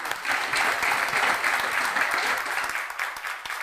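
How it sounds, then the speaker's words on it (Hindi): Steady, sustained applause from an audience at an award talk, dense clapping at an even level that holds throughout, then thins slightly near the end. "तालियां"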